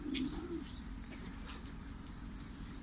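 Şanlıurfa filo pigeons cooing close by, a low throaty coo at the start followed by soft chirps, over a constant low rumbling background.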